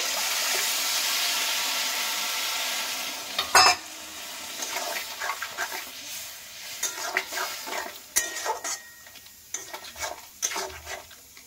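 Water splashed into a pan of okra with mustard and sesame paste brings a strong sizzling hiss that fades after a few seconds into quieter bubbling, with scattered scraping and clinking of stirring against the pan.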